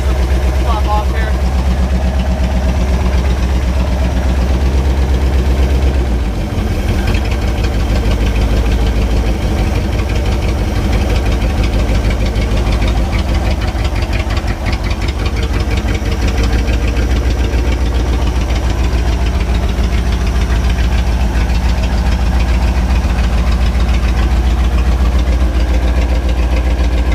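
A Chevy 327 V8 in a 1967 Chevrolet C10 truck idles steadily and loudly at close range on its first start, with a continuous low rumble and a faint uneven knock throughout.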